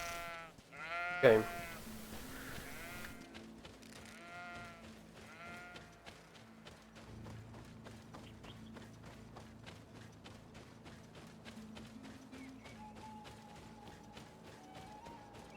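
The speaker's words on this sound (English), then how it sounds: "I think this is the first time I've seen sheep in a" Sheep in the video game GreedFall bleat in a short series of wavering calls near the start, followed by footsteps and quieter game ambience with a faint tone later on.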